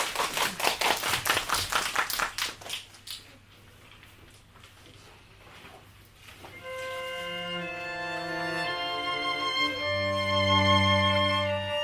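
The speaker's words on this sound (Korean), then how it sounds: "자 박수 부탁드니다" An audience at a small poetry concert in a bookshop claps briefly, a few seconds of close, rhythmic clapping that fades out, followed by a quiet pause and then sustained instrumental ensemble music.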